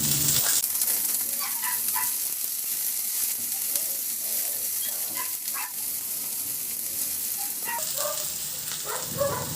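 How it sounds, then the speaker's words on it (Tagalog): Garlic sautés in a little oil in a kawali, giving a steady close sizzle with bursts of crackling and the scrape of stirring, while a dog barks a few times in the background. "Maglagay na rin ako ng kunting mantika ulit sa kawali at igisa ko na yung bawang."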